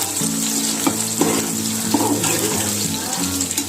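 Shallots sauté in hot oil for Thalapakatti mutton biryani, a steady close sizzle with occasional stirring clinks and a faint hum beneath.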